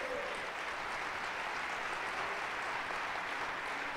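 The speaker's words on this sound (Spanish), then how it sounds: "si gusta darle un fuerte aplauso a Dios por eso." Steady church crowd applause, a dense wash of clapping from a large audience, moderately distant and continuous throughout.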